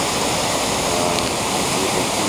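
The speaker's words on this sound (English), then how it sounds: "they're diverting some of the water over these falls" River water pours over Kezar Falls in Maine beside a hydro plant, a steady, loud broadband roar with no pauses and no voices.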